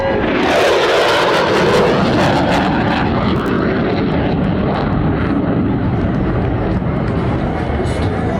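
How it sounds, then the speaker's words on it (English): An F/A-18F Super Hornet roars past loud and close near the speed of sound at an air show display, a sustained broadband rush of engine noise that fills the whole stretch without letting up. "Aircraft indicating it is approaching the speed of sound."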